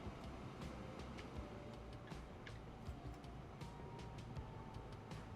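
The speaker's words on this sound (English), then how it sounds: "We've got another train coming in, so that may help out." Rail traffic in the transport-building game Transport Fever 2 as a train pulls into a station: a steady low rumble with faint clicks and clatter running throughout, fairly quiet, with no talk over it.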